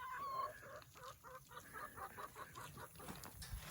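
Backyard laying hens clucking softly at a moderate distance, a faint, irregular series of short clucks over low background noise.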